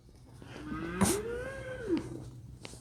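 A cow moos once, a long drawn-out low call lasting about a second and a half, fairly close and clear over quiet outdoor background with no talk.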